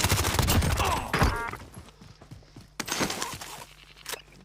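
Rapid MP5 submachine gun fired from the hip in Call of Duty: Warzone, loud bursts of clattering shots in two main volleys with a brief lull between, heard alone with no talk.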